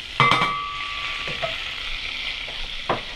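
Butter and lemon juice sizzle in a hot pan while being stirred, a steady hiss with a few sharper utensil scrapes near the start and end, close and moderately loud.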